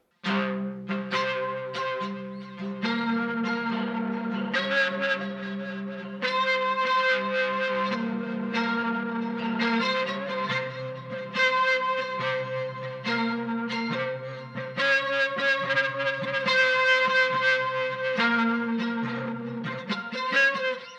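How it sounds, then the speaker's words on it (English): Sustained bass notes through chorus, delay and reverb effects with a shimmering, echoing wash, repeating tones trailing into long reverberant tails, played alone without voices. "I decide to add a chorus, a delay and a reverb."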